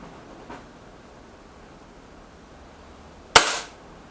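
A single sharp gunshot from an EB Arms XV2 air gun, loud and close, near the end of otherwise quiet ambience, with a faint click earlier.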